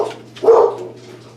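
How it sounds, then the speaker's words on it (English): Dogs barking indoors, one prominent loud bark in the middle with fainter yips around it, heard alone without speech. "Dogs."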